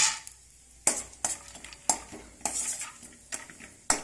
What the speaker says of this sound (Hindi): 2 टेबल स्पून मैंने पीनट लिए हैं। अब इन्हें हम रोस्ट करेंगे।